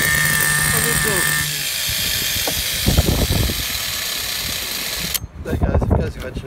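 A 1/10 scale HPI Colt Subaru 4WD RC car's small engine runs with a high, buzzy whine that drops and sputters, then cuts out abruptly, followed by clattering handling noises and a voice speaking nearby.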